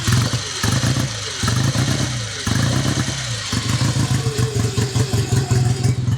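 A 1960 BSA A7 500cc iron-head twin motorcycle engine runs up close, with a loud, regular pulsing idle and mechanical clatter, briefly easing and picking up again, with no talking.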